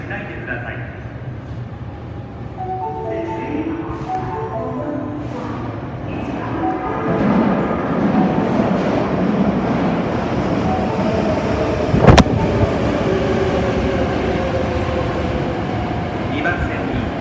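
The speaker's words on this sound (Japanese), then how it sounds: "2番線に高槻市行きが到着します。" A Hankyu 8300 series train rolls into a station platform at speed, the rumble building steadily with wheel noise and a sharp clank near the end, while a station announcement plays over it.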